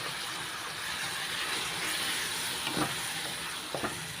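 Onions cooking in a pan for mushroom curry, producing a dense, steady sizzling hiss throughout with a couple of faint utensil knocks toward the end, close and even in level.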